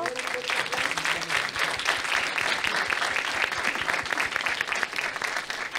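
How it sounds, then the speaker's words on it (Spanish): An audience at the closing of an artificial intelligence conference applauds steadily and loudly, a dense, even clatter of clapping hands that carries on without a break. "Por favor, un fuerte aplauso."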